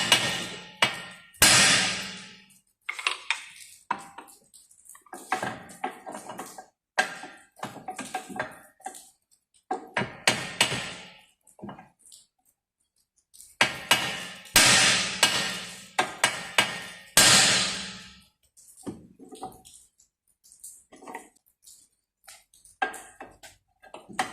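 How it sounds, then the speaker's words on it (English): A hammer strikes another hammer held against a VW Polo part, metal blows ringing out repeatedly, sharp clanging strikes in uneven bursts with short pauses between, close and loud. "position the one hammer where you want to whack it and whack on it"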